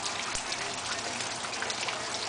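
Rain falling on a porch where birds shelter: a soft, steady patter and hiss that stays even for the whole stretch, close by and fairly quiet, with no one speaking.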